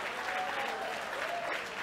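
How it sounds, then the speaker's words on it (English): At an AMESA congress, an audience claps for students dressed in green, a brief, steady burst of applause at moderate volume from a crowd. "Let's give them a round of applause."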